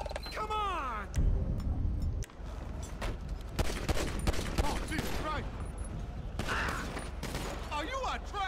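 Rapid gunfire in GTA V on a military base during a police shootout, with dense bursts and single cracks running throughout and a distorted voice speaking intermittently underneath.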